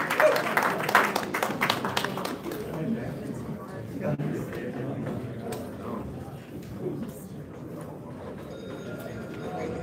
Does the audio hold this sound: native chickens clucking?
no